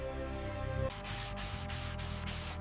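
Block sanding guide coat off the fender of a 1928 Martin Aerodynamic car, rhythmic back-and-forth rasping strokes after a brief tonal hum, close and steady with no talk.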